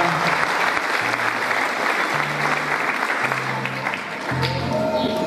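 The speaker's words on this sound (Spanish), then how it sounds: "Un fuerte aplauso a don Mario" Sustained applause from a crowd at a ceremony for incoming auxiliary mayors in Chipiacul, honoring don Mario as he hands over the staff of office, dense steady clapping with a few brief tonal sounds beneath it.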